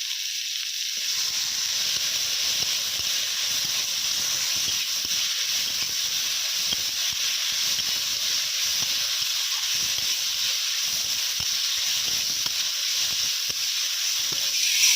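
Vegetables fry in a hot pan while being stirred, a steady close hiss and sizzle with scattered crackles running unbroken for the whole stretch, no voices.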